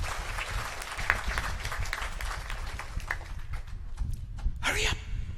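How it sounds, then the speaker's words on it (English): Audience applause at a Gurukul camp graduation ceremony, a steady dense clatter of many hands clapping at moderate distance throughout, with a brief vocal burst near the end. "Give them all a big round of applause."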